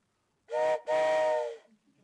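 A train whistle stands in for a gavel at a city council meeting, giving two loud close blasts, a short one followed by a longer sustained one, each with a bright harmonic tone, in an otherwise quiet room.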